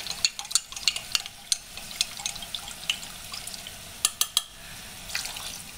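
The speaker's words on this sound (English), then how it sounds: "I'm going to stir it some more, make sure that the bottom is dissolved" A spoon stirs beef base around in a pot of liquid, scraping the bottom to dissolve it, giving soft liquid swishes with irregular sharp clinks against the pot.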